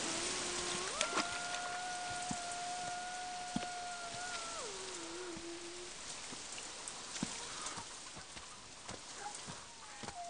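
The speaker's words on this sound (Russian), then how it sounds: "Дожди здесь были короткие, липкие." Steady rain falls in a film scene, a dense close patter with scattered sharper drops. A faint tonal whistle-like sound rises and falls in the background during the first half, and no one speaks.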